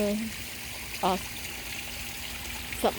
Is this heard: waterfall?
yes